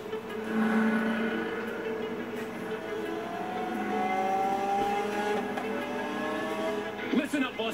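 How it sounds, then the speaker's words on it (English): A high-pitched V12 supercar engine in the video game Forza Horizon 3 whines and climbs through gears, with tyres squealing near the end, while a voice talks over it. "Sound of that V12 on that thing."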